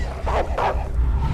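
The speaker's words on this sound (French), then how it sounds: "oula, petite baston avec un chien." Dog barking in the video game Beyond: Two Souls, two short bark-like bursts standing out over a steady rumbling game soundtrack.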